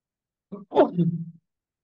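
A single sneeze, a short sharp intake followed by a loud burst that trails off, close by with silence around it.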